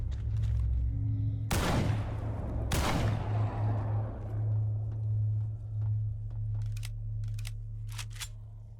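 AK rifle firing hollow-point rounds in the S.T.A.L.K.E.R. video game: two loud, sharp shots about a second apart over a steady low hum, followed by quieter clicks and rattles.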